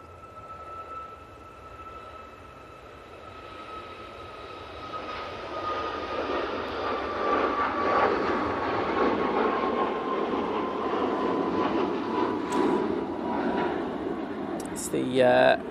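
A Ryanair jet rolls for takeoff at Manchester Airport bound for Ibiza, its engine whine and roar building from moderate to loud and sustained, with a person talking over it.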